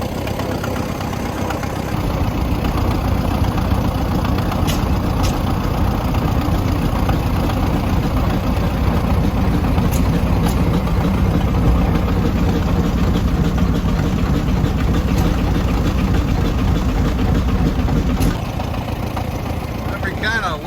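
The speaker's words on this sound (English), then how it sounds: "The tractor we're driving is a Ellis Chalmers WF with a Harley Davidson Sportsman exhaust pipe." An Allis Chalmers WF tractor, a small four-speed with reverse fitted with a Harley Davidson Sportsman exhaust pipe, runs steadily up close with a loud continuous low engine drone that holds through the whole stretch.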